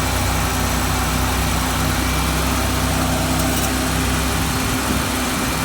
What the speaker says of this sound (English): Idling a little high, but could just be a vacuum leak.